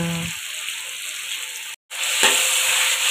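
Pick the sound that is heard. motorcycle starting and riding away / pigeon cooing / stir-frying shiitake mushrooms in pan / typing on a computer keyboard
stir-frying shiitake mushrooms in pan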